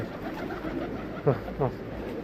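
Two soft, low pigeon coos sound close together near the end, against a quiet background murmur.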